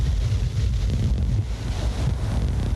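Hurricane wind roars across a coastline as storm surge water pushes over sandbags near a highway, a dense, continuous rush of gusting air and crashing surf buffeting the microphone, with no voices.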